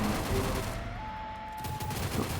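Video-game gunfire from an MG5 during a fight in a village area lands a headshot, with sharp shots and a short burst toward the end over a steady tonal game background.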